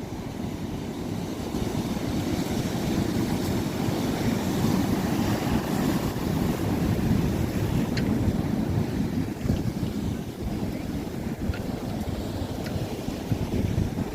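Ocean waves wash and break against large rocks along the shore, a steady loud roar with continuous surf rumble and wind buffeting the microphone, no voices.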